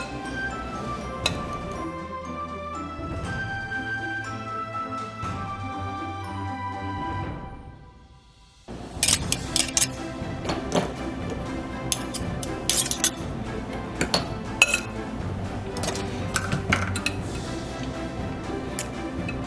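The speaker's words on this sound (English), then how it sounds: "I'm going to use my knife and dig that out again" Metal knife scraping and clinking against electric mixer beaters to dig out chocolate chip cookie dough, sharp irregular clicks and taps after a stretch of background music.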